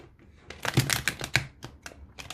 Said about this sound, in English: I've already shuffled for the most part, but it's always nice to just have a little warm up as well.